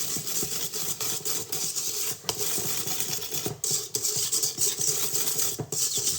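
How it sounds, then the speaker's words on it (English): Wet canelé batter ingredients whisked together in a bowl, a rapid, steady scraping and swishing rhythm close by, with no talking. "Just whisk it a bit together."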